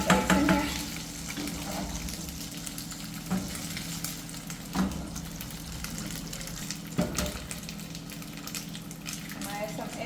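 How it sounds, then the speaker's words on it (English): Six to eight eggs frying in a pan, a continuous close sizzle with occasional clacks and stirring knocks, plus faint background speech now and then. "I'm going to put about 6 or 8 eggs in here."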